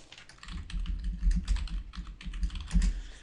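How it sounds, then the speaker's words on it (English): Typing on a computer keyboard, rapid close key clicks in uneven bursts and short pauses, loud and alone with no voice. "So I'm going to type in wedding speeches."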